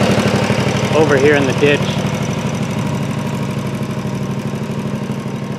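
A Snapper 48 riding mower engine runs steadily with a throbbing mid-pitched chug while mowing, close and continuous, with someone talking briefly over it early on.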